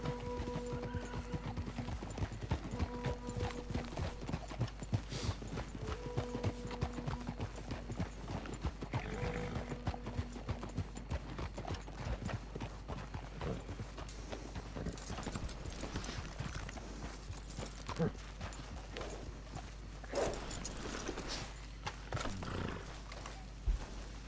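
Horse hooves beat steadily in Red Dead Redemption 2, a rhythmic clopping gait running throughout over low game ambience, with an occasional neigh and faint background voices.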